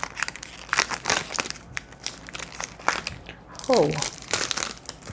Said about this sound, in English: Quite hard to remove the plastic.